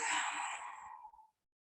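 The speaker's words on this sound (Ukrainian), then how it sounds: "Відпустили повітря. Видих." During children's yoga, a single long, breathy exhale sounds close and soft, a sighing rush of air that trails away into silence.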